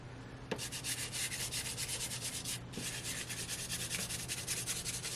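Soft pastel stick rubs across paper during a landscape painting demo, making a quiet, continuous scratchy scraping with rhythmic back-and-forth strokes.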